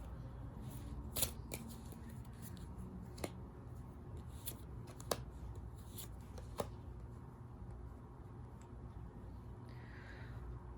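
Tarot cards being shuffled by hand, a steady soft rustling riffle with several sharper flicks and snaps, close and quiet, with no talking.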